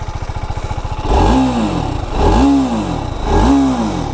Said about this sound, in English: bike exhaust note is much greater